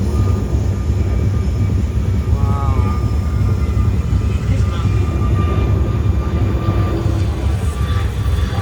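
Steady broadband roar of an airplane cabin in flight, a constant low engine and air rush with a faint high tone running through it, no speech over it.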